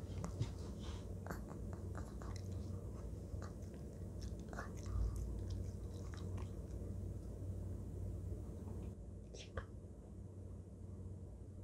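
A Pomeranian dog chews homemade treats with soft, irregular crunching and biting clicks, quiet and close, over a faint background hum, with low voices now and then.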